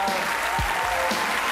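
A thick, loud burst of applause from a comedy audience for comedian Axel Lafont, with continuous many-handed clapping and a couple of low thuds.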